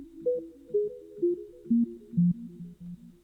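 A soft, mellow melodic loop from the Peculiar Sounds expansion plays short descending synth notes in a steady pulsing rhythm, quiet and alone.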